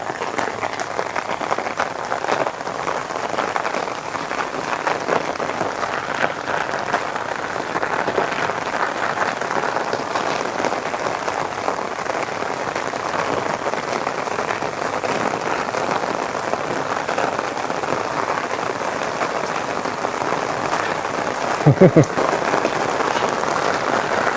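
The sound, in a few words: rain falling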